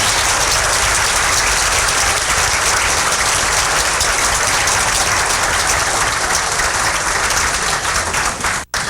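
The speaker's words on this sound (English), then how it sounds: "I'd like you to give me a round of applause" An audience claps steadily through a full round of applause at an evening bakers' event, dense and loud throughout before cutting off abruptly at the end.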